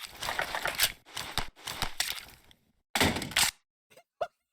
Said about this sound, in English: He bounces the magazine off the floor!